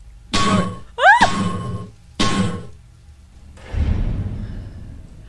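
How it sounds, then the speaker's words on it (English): Heavy banging on a gate in a horror video game: three loud, separate clanging thuds about a second apart with a short rising metallic screech between the first two, then a lower rumbling crash. "They were banging on the gate."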